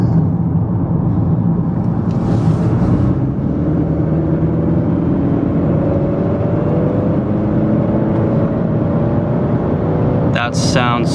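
Tuned 2021 Honda Accord 2.0T with a steady, loud engine and exhaust drone building over several seconds, with people talking over it and a sharp burst of noise near the end.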